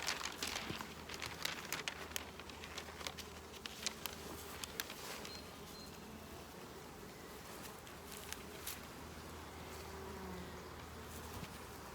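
Honeybees buzz around a hive alongside a swarm, a faint, continuous hum threaded with brief ticks and rustles, fairly quiet throughout.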